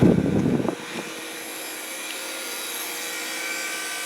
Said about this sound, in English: Yep, heat pump.